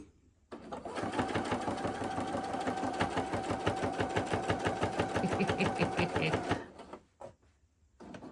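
A sewing machine stitches quilt sashing in a steady, fast mechanical chatter that runs for about six seconds, then stops abruptly, leaving a few faint clicks and handling sounds.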